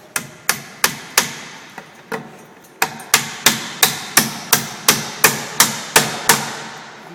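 A carpenter's hammer drives nails to fix a hip jack rafter in place against a wall. There are about sixteen sharp, loud wooden blows close by. They come in a quick, even rhythm with a short pause partway through.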